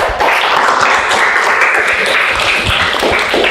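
Classroom applause from students, a dense steady wash of clapping filling the room at fairly high level throughout, with no talk over it.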